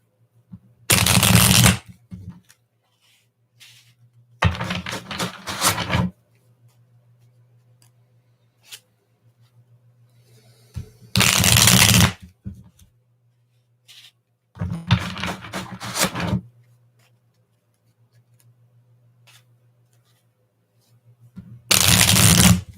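Tarot cards shuffled in several distinct bursts, each riffle lasting a second or two, separated by quiet gaps with a low steady hum in the background.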